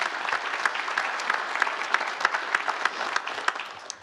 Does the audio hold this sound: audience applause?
yes